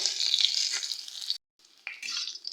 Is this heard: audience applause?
no